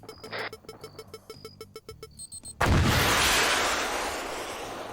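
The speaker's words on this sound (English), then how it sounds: "But I have a javelin launcher." A javelin launcher fires in a military video game: after a string of soft electronic beeps and clicks, a sudden loud boom erupts and rolls off into a long fading roar.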